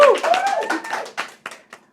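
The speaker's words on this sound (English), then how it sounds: "Let's give them a round of applause." Applause at a non-profit fundraising gala, a short burst of clapping mixed with voices that quickly thins to a few scattered claps and fades out within two seconds.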